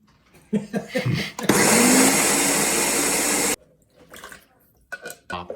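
A kitchen blender being cleaned whirs loudly for about two seconds with a rushing, watery churn, then cuts off abruptly; people talk briefly before and after it runs.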